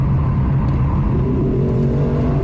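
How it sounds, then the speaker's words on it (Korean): A Lexus LC500's naturally aspirated engine revs hard with a deep, throaty exhaust note, rumbling steadily and loudly throughout. "NA 엔진에서 뿜어져 나오는 이 소리. 배기음이 엄청납니다."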